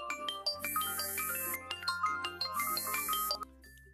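A phone rings with an incoming call, playing a melodic ringtone of bright chiming notes that repeat in phrases over a steady low hum, fairly quiet and with no talking.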